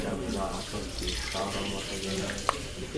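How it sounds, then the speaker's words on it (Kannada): Tap water runs steadily during a hair wash at a salon head massage, with a voice talking over the continuous flow and a brief sharp click near the end. "ಕೋಲ್ಡ್ ವಾಟರ್ ಬರ್ತಿದೆ, ವಾರ್ಮ್ ಅದ್ರ ವಾಟರ್"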